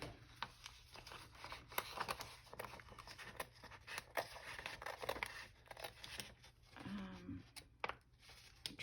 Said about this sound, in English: So I usually just go like that and kind of snip it there.